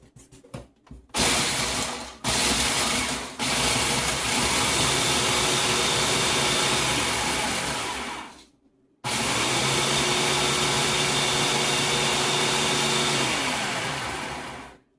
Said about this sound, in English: I'm putting them in the food processor.